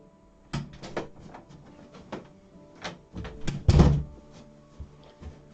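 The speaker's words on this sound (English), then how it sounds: "I thought someone was at my door." A series of dull knocks or thuds on a door indoors, spread irregularly with a heavier cluster of impacts toward the end, moderately close and without talk.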